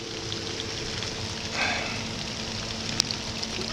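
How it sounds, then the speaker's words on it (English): Slow steady rain falling outdoors, a soft continuous patter and hiss heard alone at moderate distance, with a faint brief rustle partway through. "this rain is so nice and slow. Every last drop is soaking into the ground."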